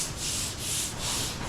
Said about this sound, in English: when you guys are sanding, try not to put pressure down. Let the block do the work